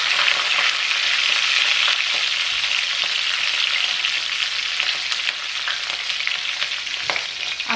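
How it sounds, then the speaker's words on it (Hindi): Long-cut chopped green chillies sizzle loudly in hot oil with cumin and asafoetida, giving a steady, close frying hiss with faint stirring and no talk. "अब हम इसमें डाल देंगे कटी हुई लंबी लंबी हरी मिर्ची।"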